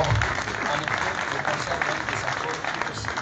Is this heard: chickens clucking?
no